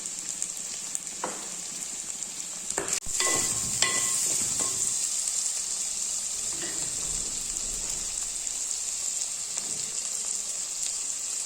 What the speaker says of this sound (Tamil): தக்காளி வெங்காயம் வதங்குறதுக்காக கொஞ்சம் உப்பு சேர்த்துக்கலாம்.